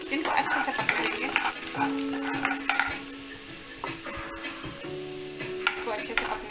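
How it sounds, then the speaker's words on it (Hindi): Four garlic cloves sizzling and being stirred in a hot pan, a steady frying hiss broken by scraping spoon strokes and light clinks of cookware, close and fairly loud with no talk. "इसमें लहसुन की कलियां, 4 लहसुन की कलियां डालेंगे, जिनको अच्छे से पका लेंगे।"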